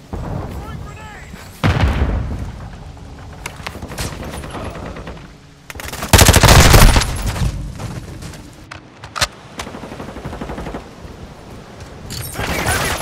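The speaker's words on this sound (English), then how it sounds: "Taking heavy fire" Heavy gunfire in Call of Duty: Modern Warfare II comes in loud bursts and blasts at irregular intervals, with quieter stretches between them and voices talking over the shooting.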